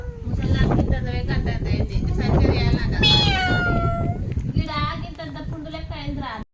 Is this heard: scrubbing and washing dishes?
no